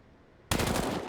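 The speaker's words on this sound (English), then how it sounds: "a little bit of damage done with that FAMAS" A FAMAS rifle fires in a video game: after a quiet moment, a sudden loud burst of rapid automatic shots rattles out close by and continues to the end.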